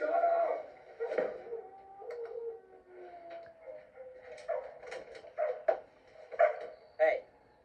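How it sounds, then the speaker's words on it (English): A dog barks in short, repeated bursts, some close and loud, others softer, spread across the clip with a few quiet gaps between them. "he hadn't quit barking yet"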